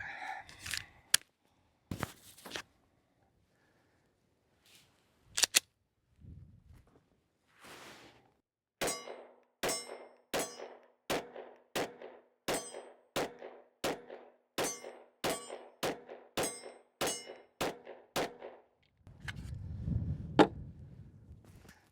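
A Ruger RXM pistol, a Gen 3 Glock-style 9mm, fires outdoors in a long, steady string of sharp cracks after a few scattered opening shots, each report loud and close, with a brief noisy rustle at the end.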